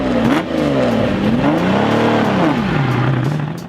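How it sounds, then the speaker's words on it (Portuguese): Lamborghini Miura sports car engine revving loud and close, a steady roaring drone whose pitch rises, dips and swells again over a few seconds. "Lamborghini Miura."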